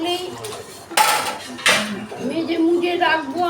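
Kadai cooking pans are scrubbed and washed, with metal clanks and scraping clatter of pans and utensils. Two sharper knocks stand out, and a voice talks over part of it.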